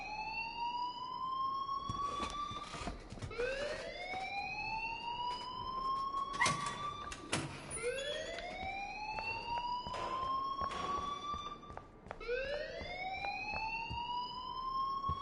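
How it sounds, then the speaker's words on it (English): Alarm blaring in a video game, a repeated rising electronic siren wail sweeping upward in cycles every couple of seconds, with sharp clattering hits between sweeps, moderately loud and steady throughout. "please turn off that alarm since that's your job"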